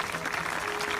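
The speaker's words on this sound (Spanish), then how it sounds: "Una carrera épica que su pueblo aplaudiría con la inauguración de este busto." A village crowd applauds at the unveiling of a bust, dense steady clapping from many hands heard close and loud for a brief moment.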